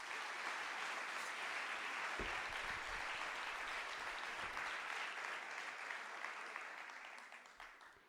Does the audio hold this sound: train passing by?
no